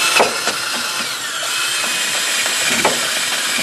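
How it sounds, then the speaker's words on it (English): A power drill whines steadily with a wire wheel scraping and rasping against a metal wheel hub housing, close and continuous, with small clicks and scratches throughout. "take a wire wheel on your drill and clean this housing up"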